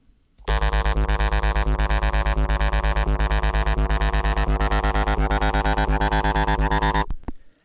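A loud, buzzy filtered synth repeats a rapid pulsing chord with a rhythmic sweep, sustained for about seven seconds before cutting off.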